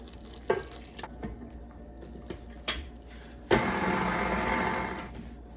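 Liquid is poured into gluten-free English muffin bread dough made with King Arthur gluten-free bread flour, then briefly mixed in a stand mixer with a flat beater: a few light clicks and knocks, then a steady close rushing whir for the last two seconds.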